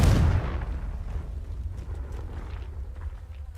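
The Confringo blasting spell going off in Hogwarts Legacy, a heavy booming burst at the start that rolls off into a long low rumbling decay, loud and close with no talking.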